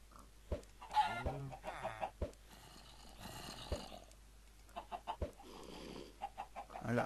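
A Minecraft chicken clucks repeatedly in short bursts, near and moderately loud, over a quiet background.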